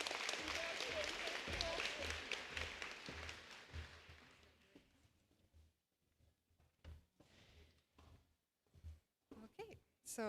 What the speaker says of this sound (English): Another round of applause for Christina.